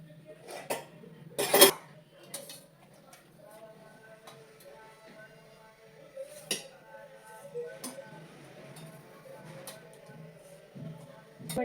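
Boiled potatoes lifted out of a cooking pot in a home kitchen, with a sharp metallic clank of pot and utensils early on, then scattered light clinks and scrapes against a low steady background hum.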